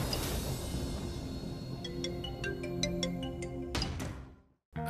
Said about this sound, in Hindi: फोन बज रहा।